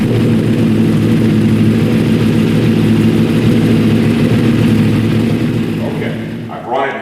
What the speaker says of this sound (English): I'm going to start the motorcycle. I'm going to run it a bit